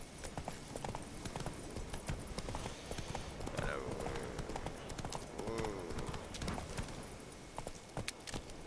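Roach, Geralt's horse in the video game The Witcher 3, gallops with steady, rapid clip-clop hoofbeats close by throughout, over game ambience, with a brief whinny-like sound and a voice speaking over the hooves.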